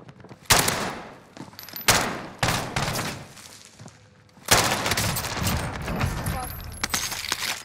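Gunfire in the video game Call of Duty Cold War, a RAM-7 rifle setup: sharp bursts of shots break out around half a second and again near two seconds, then sustained firing resumes loud from mid-clip, with faint speech under it.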